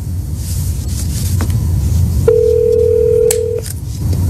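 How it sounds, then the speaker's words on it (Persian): A telephone is picked up and dialed during a phone call to a voter in the 2020 US election, with a few short clicks and a single steady tone lasting about a second over a loud background hum. "تلفن رو برداشته تون تون داره زنگ میزنه"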